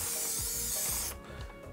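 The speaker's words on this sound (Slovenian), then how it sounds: "Jaz imam zelo rad tale sprej." Cooking spray hisses in a steady, close burst while greasing a cake ring baking pan for a vanilla sponge, cutting off abruptly partway through and leaving quieter handling noise.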